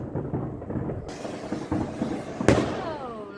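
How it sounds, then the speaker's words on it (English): Bonfire Night fireworks go off outdoors with a string of muffled booms and crackles, then a sharp nearby bang with a whistling rocket trail fading afterward. "So you can hear all the fireworks."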